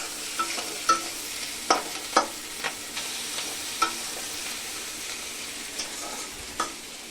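Capsicum, onion and chicken stir-frying for chilli chicken under a low steady sizzle, punctuated by sharp spatula knocks and scrapes against the pan every second or so, close and without talk.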